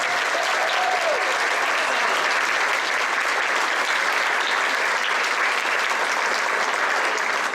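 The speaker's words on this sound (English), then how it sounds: "Let's give them another round of applause" Audience at an elementary school 5th grade spring concert applauding in a loud, sustained, even round of clapping with faint crowd murmur.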